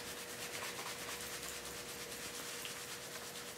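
Hands rub wet felt to shrink it, giving a soft, continuous scrubbing friction close by. The texture stays steady and even, with no talk.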